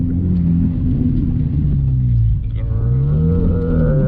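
Manual car engine pulling in second gear after a shift, a loud, steady low rumble whose pitch dips and rises as revs change, heard from inside the car without talk.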